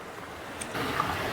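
Water sloshing as gravel is washed in a gold pan while prospecting outdoors, a soft low swish that swells louder in the second half, with no talking.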